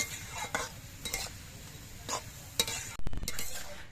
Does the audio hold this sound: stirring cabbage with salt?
yes